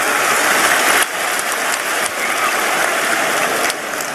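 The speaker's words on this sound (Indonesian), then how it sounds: "tepuk tangan dulu" An audience at an Islamic lecture with Ustadz Adi Hidayat breaks into sustained, dense applause, an even hiss of many hands clapping at once with brief dips in intensity and no talk over it.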